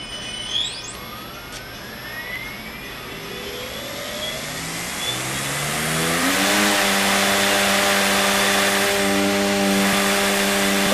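An electric helicopter tail rotor motor spins up toward a set 5,000 RPM, its whine climbing steadily in pitch and then holding as a loud, even drone, with no voices.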